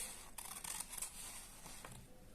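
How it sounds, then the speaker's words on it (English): Paper being cut with child-friendly scissors during a simple craft of making a paper flower, a few quick crisp snips and rustles close up, with no talking. "Use friendly scissors to cut it and be careful."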